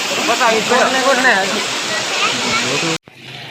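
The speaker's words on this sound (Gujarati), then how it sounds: "ભયંકર વરસાદ એવો છે" Dense, steady rush of heavy rain pouring down, loud and continuous, with people talking over it before it cuts off abruptly near the end.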